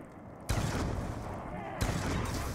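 Gunshots fire in the zombies game mode Mob of the Dead, with two loud bursts of gunfire close together over game ambience, mixed with some talking.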